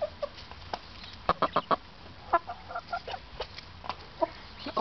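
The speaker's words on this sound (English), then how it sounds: "All the other noises that you're hearing is from the chickens." Chickens cluck in scattered bursts in a coop holding quail, a few birds calling close by with short pauses between, and no voices.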